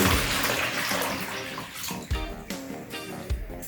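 Water splashing and running as cut yellow yam and pumpkin pieces are washed for a Jamaican chicken foot soup, a steady close wash broken by several sharper splashes and clatters near the end.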